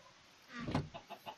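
A chicken in Minecraft clucks a few times, one louder cluck followed by three shorter soft ones, close by and with no talk over it.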